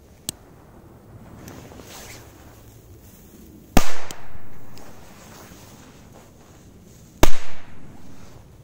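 Two sharp, loud firecracker bangs in snow several seconds apart, each followed by a brief echoing rumble, over quiet outdoor background.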